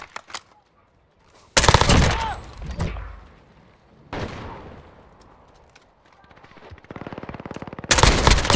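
Bursts of automatic weapon fire in Call of Duty Modern Warfare multiplayer, loud rapid rattling volleys separated by quieter gaps with distant shots and a brief mechanical whine, game voice callouts faintly underneath.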